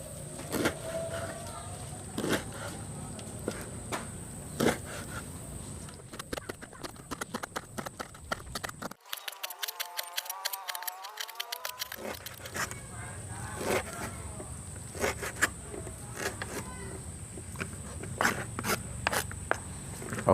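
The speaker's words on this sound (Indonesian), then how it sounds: "Ini adalah kulit pisang yang sudah dibuka dan akan saya haluskan dengan cara diiris-iris." A knife slices banana peels into small pieces, giving a run of quick, close, crisp cutting taps and scrapes that pause briefly partway through before resuming at a steady rhythm.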